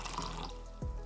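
Water pours from a magic lota vase in a short, quiet trickle and splash, ending with a brief low gurgle.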